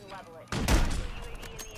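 Call of Duty MW3 gameplay gunfire erupts abruptly into a dense, sustained burst of shots and booming impacts, loud and close, continuing as a busy rumble after the initial blast.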